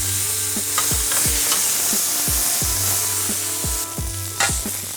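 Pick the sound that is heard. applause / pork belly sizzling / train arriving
pork belly sizzling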